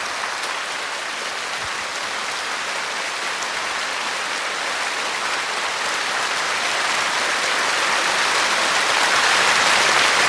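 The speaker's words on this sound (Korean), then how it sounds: "여러분 큰 박수로 우선 환영하는 것으로부터 방송을 시작하고자 합니다" Sustained applause from a TV studio audience welcoming Korean War veterans, dense and steady throughout, growing slightly louder toward the end with no talk over it.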